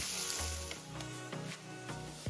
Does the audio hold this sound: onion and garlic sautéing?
yes